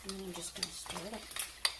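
A utensil stirs green enchilada sauce in a pan while cooking a breakfast burrito, giving a few short scraping and clinking strokes over a soft sizzle, close and fairly quiet.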